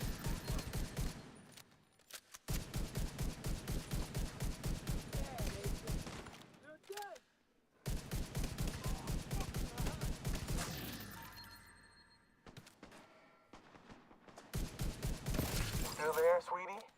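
Rapid automatic gunfire from a sniper turret in The Division 2, coming in long, steady bursts of evenly spaced shots separated by short pauses, loud and mechanical with a voice talking at times.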